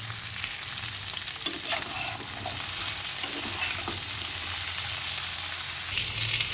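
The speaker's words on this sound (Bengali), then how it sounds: "এখন সামান্য পরিমাণে একটু লবণ ও সামান্য একটু হলুদ দিয়ে ভালো করে সবজিটাকে একটু ভেজে নেব" Mixed vegetables fry in a pan with a little salt and turmeric for a vegetarian mixed veg dish, giving a dense, continuous sizzle with occasional stirring clinks close by and no talking.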